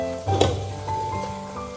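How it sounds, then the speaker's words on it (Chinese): Tofu and white sesame seeds sizzle in a hot wok as they are stir-fried, a burst of crackling frying with a brief scrape of stirring near the start, then a softer steady sizzle. "然后继续翻炒均匀，把白芝麻炒香"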